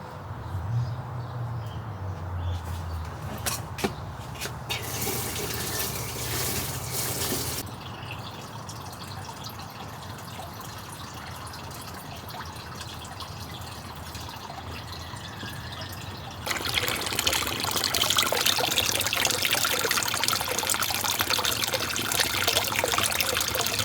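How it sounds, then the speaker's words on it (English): Water pouring into the top reservoir of a garden planter, a steady trickle and splash that grows louder and brighter toward the end, heard alone outdoors with no talk. "you're supposed to fill this up with water, the top reservoir"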